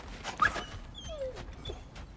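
Sled dogs whine in the video game God of War Ragnarok: brief, fairly quiet canine whimpers and pitched whines, rising and falling over a soft ambient background with no talk.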